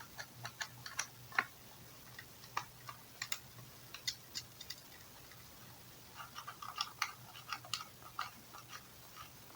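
Small screws being unscrewed from a DIY mobile phone power bank case: light, irregular ticking clicks in scattered bursts, close and quiet, with no talk.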